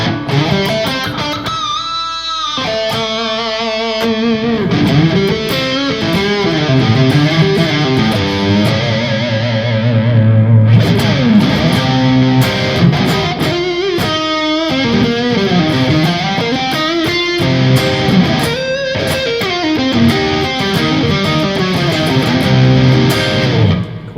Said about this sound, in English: So plate reverb.